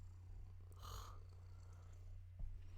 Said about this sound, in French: elle ronronne fort